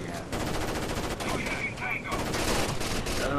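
Rapid gunfire in the tactical shooter Rainbow Six Vegas 2 as enemies burst out of a room, dense and continuous bursts filling the whole stretch with a faint voice underneath.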